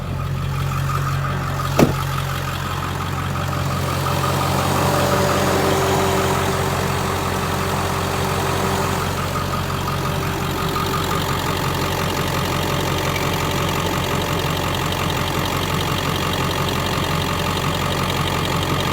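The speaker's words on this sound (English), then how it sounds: "let me get out so you can hear it idle." A 2001 Ford Excursion XLT with the 7.3L Powerstroke diesel V8 idles steadily, a constant low clattering drone with a faint whine, heard close and alone after a brief door thump near the start.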